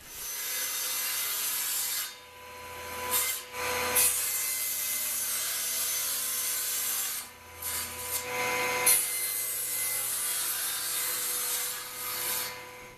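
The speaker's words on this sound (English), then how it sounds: "So I've just cut the plywood pieces, which are the bases and the backs." Birch plywood pieces for a table saw dovetail jig are cut in a workshop, with a steady hum from the saw and a few louder bursts as the blade bites into the quarter-sheet ply.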